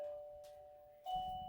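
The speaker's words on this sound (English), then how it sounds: "the doorbell rings." A doorbell rings indoors as two sustained electronic tones, a ding followed by a dong about a second later, fairly faint against a quiet room.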